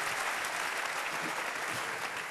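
A theatre audience applauds at a Harrie Jekkers and Het Klein Orkest show, a dense, even wash of clapping held steadily throughout at a moderate distance.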